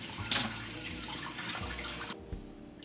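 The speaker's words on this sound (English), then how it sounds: "Give my apples a quick rinse." Water pouring steadily from a kitchen tap while apples are rinsed under it, a close continuous splashing rush with small shifts as the fruit moves through the stream.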